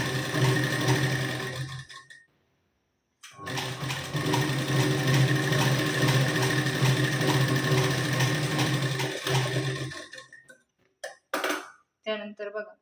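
A sewing machine stitches a blouse seam with a half-inch margin, running in a steady close mechanical whir through two long bursts separated by a short pause, then a few quick stop-start stitches at the end.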